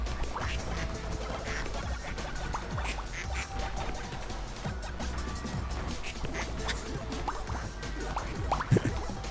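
Cartoonish quacks from a duck struck by cannon shots in a video game, repeating over a busy, dense mix of crashes and pops that runs steadily throughout.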